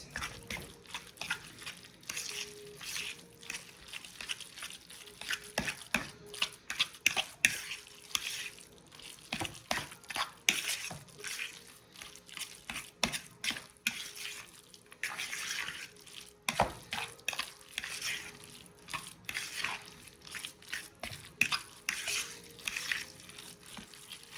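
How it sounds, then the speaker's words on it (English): A lasagna filling seasoned with salt and pepper being stirred in a bowl, with steady scraping and wet squelching strokes repeating in uneven bursts close by, no talking. "we're going to give that a mix in our bowl"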